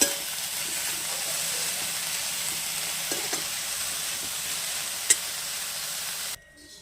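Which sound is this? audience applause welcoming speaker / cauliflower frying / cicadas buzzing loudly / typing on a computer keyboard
cauliflower frying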